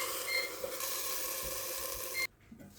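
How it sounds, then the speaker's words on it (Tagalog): Frozen beef sizzling loudly in a hot pan for a Turkish karniyarik dish, a dense continuous hiss close up that cuts off abruptly near the end, leaving only faint clatter. "At meron tayong frozen beef kaya lutuin lang natin to."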